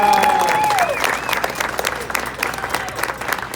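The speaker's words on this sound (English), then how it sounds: "So please join me in giving a round of applause to these 3 incredible men, Skip and Aaron and Larry." Crowd at a grand opening event in Palm Springs bursts into loud, sustained clapping that stays dense throughout, with a few cheers and whistles over the top.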